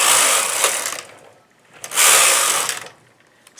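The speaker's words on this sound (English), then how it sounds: "I want to go until I hear the last click" A knitting machine carriage slides across the needle bed in two quick passes, each a bright rasping whir with a faint click, separated by near silence.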